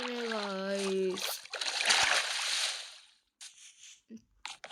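Water splashes and sloshes as a character swims in a video game, busy churning bursts that drop out into short choppy splashes; a voice talks over the first part.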